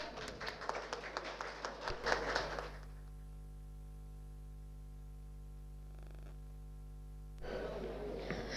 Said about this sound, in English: I think we can have like intense round of clap.